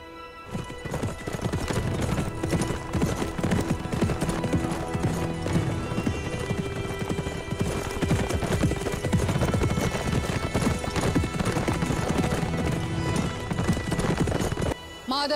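Hooves of an armored horse carrying a heavy rider clop in a steady, continuous rhythm throughout, with an occasional whinny and a dense layer of other sound underneath.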